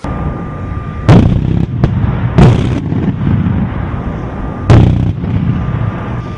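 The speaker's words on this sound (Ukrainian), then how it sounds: "За одну хвилину ця бойова машина може здійснити близько п'яти тисяч пострілів." Tunguska self-propelled anti-aircraft gun system firing on a range during air defence exercises, loud close bursts of rapid cannon fire in several separate volleys, each ending in an echoing rumble.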